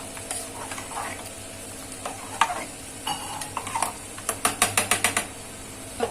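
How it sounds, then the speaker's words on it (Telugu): Dal is stirred with a little water in a pan alongside frying potato, a light sizzle under scraping spoon strokes that speed up into a quick run of taps near the end. "వాటర్ యాడ్ చేసుకొని బాగా పప్పుని బాగా కలుపుకొని"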